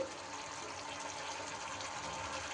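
Water poured in a small amount into a brinjal and curd gravy in a pan, a soft continuous splashing, bubbling wash that stays even and fairly quiet throughout, with no voices.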